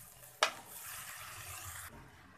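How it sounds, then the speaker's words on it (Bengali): Shredded cabbage stirred in a frying pan for an egg and cabbage bhaji: a single sharp spatula knock, then a short, soft, even sizzle that stops abruptly. "আস্তে আস্তে করে এটা আমি নেড়ে দেব।"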